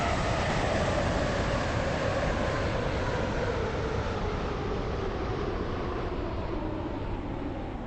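A Class 319 electric train in a train simulator game rolls into a station with a loud, steady mechanical rumble and rushing noise that eases slightly near the end.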